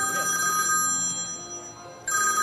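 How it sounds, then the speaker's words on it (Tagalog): A telephone rings loudly in a noisy TV studio, its electronic tone sounding clearly at the start, dropping away briefly, then returning near the end. "Nag-ring. Telepono."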